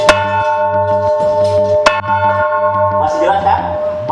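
An old tower bell, about 278 years old, at a museum in Jakarta's Kota Tua rings with sustained, ringing tones. Repeated strikes are clear and loud, and a few voices murmur near the end.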